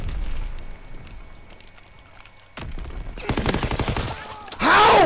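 Tommy gun fire in Call of Duty WW2 Search and Destroy, a rapid burst of automatic shots close by, preceded by scattered distant gunfire and followed by a loud whooshing blast.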